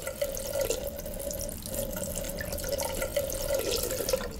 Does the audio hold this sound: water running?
yes